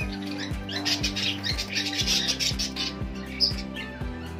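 Budgie and parakeet crossbreed birds chirp in a colony, with dense overlapping high chirps and tweets over a regular low rhythmic thumping, fairly faint overall.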